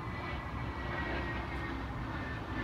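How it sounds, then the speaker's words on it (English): A fixed-wing airplane passes overhead outdoors, its steady broadband engine drone holding at an even level for the whole stretch with no other sounds on top. "And now there's a plane."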